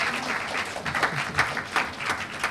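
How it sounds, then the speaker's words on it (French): Steady applause from an audience at a summer camp closing event, a full, continuous patter of many hands at moderate volume lasting a few seconds without speech. "bon applaudissement s'il vous plaît pour Cher Omar Ba."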